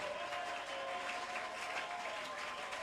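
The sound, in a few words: congregation applauding and cheering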